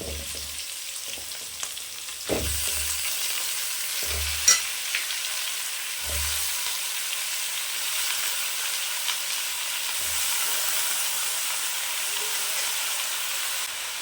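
Mutton pieces sizzling in a pan of hot oil with tomato for a Chettinad gravy, a steady broad hiss with several soft low thumps as the meat drops in and shifts, no voices present.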